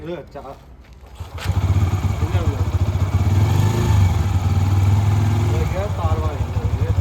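A Bajaj Freedom CNG motorcycle engine catches and settles into a steady, throbbing idle close by, running loudly and continuously, with voices speaking briefly over it.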